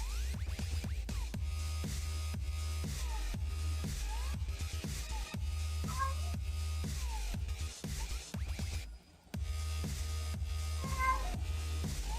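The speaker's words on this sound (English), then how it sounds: "I have a kitty cat trying to get my attention." A pet cat meows for attention indoors, several short, fairly faint meows spread out over a steady low background hum.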